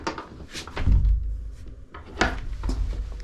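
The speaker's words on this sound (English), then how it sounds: "we do have the barn door here, so you'll be able to slide this door over" Heavy wooden barn door in a floating cabin slides along its track and closes with a low rolling rumble and a couple of dull thuds, heard up close.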